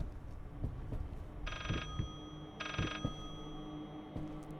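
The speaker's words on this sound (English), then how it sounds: "Just the phone ringing." A telephone rings in the horror video game Layers of Fear, two electronic bell bursts sounding a second apart over a low droning ambient background, with no talking.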